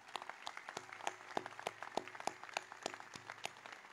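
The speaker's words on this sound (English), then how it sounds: "have you give yourself a round of applause" A crowd at the opening ceremony of a veterans' charity run gives itself a round of applause, heard as distinct claps from a modest group with a faint tonal hum beneath.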